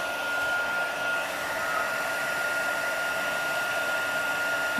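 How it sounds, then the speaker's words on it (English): A heat gun blows hot air in a steady, close whooshing roar with a faint whine, constant and unbroken throughout. "Bring the heat gun back in."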